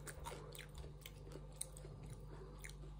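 Quiet, close chewing of a small pickled, olive-like fruit with tiny crunchy seeds, soft repeated bites and crunches in a steady rhythm without any talking.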